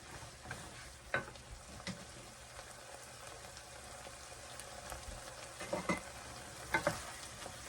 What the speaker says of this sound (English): Get that stirred around.